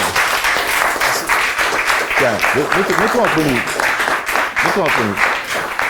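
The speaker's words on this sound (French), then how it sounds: "on peut l'applaudir, ouais." An audience at a cocktail competition applauds the third-place winner with continuous clapping, while people talk over it.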